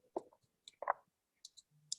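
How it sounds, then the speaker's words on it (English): Sparse, quiet clicks and taps in near silence, a few scattered sharp ticks of caribou (reindeer) claws clicking together as the animals shift and walk. "that clicking noise, that'll be their claws clicking together when they move."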